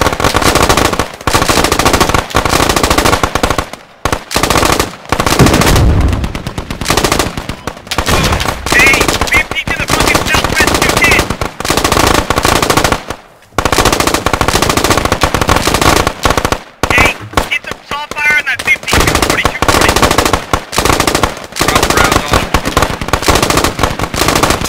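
Machine gun covering fire in the tactical shooter game Squad, loud sustained bursts of rapid automatic fire with only brief pauses, close and dominant, with some voices underneath.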